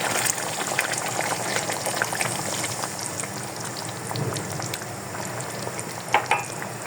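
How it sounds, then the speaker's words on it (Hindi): Chicken tikka karahi pieces fry in about half a cup of hot oil, giving a steady, close sizzling crackle with occasional spits and stirring scrapes, with no talking. "और इसको हम अच्छी तरह ऑयल में फ्राई कर लेंगे"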